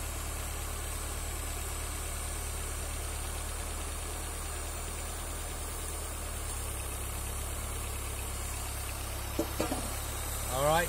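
A Toyota 4A-GE engine idles with its intake air control valve working, giving a steady, even low hum that holds without change, with a few faint clicks near the end.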